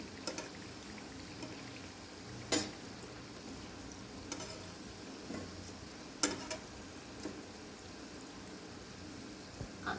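Maida and wheat flour murukku deep-frying in hot oil after being turned over, a faint steady bubbling hiss with occasional sharp pops and crackles.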